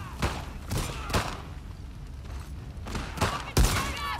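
Gunfire in the video game The Last of Us Part II: a ragged volley of loud shots, several sharp cracks spread unevenly over a few seconds, the last one hardest, over a low game background.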